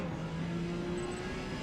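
Porsche 956 Group C race car in Forza Motorsport, lapping Hakone Grand Prix Circuit, its engine holding a steady, loud, sustained drone with no talk over it.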